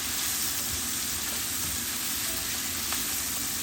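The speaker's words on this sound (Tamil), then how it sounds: "கொஞ்சமாக வெங்காயம் வதக்கினா போதும்." Onions sautéing in a pan for a home lunch, producing a loud, continuous close-up sizzle with a few soft clicks of stirring and no voices.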